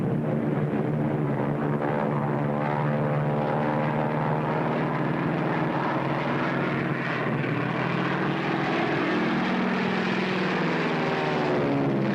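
A 1943 propeller airplane flying, its engine a loud, steady droning hum with beating harmonics that shift in pitch as it passes, continuous throughout with no talk.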